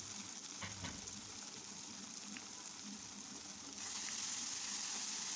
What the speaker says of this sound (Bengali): এখন নেড়ে চেড়ে পেঁয়াজটাকে ভালো করে ভেজে নেব